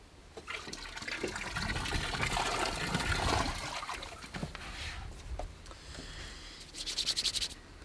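A hose runs water into an ice bath, a steady rushing splash and trickle heard close up that swells and fades over several seconds, with a brief rattle near the end.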